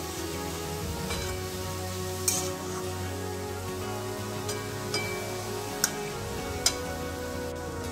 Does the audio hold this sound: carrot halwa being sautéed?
yes